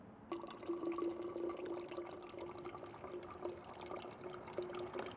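Water pours into a container hung from a mountain bike brake lever, a quiet, steady trickling hiss with a faint constant hum underneath, running evenly without a break.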